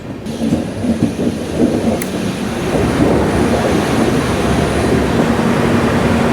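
A train on the Araku Valley line from Visakhapatnam rumbles steadily as it nears a tunnel, a loud, continuous low roar of wheels and carriages with no speech.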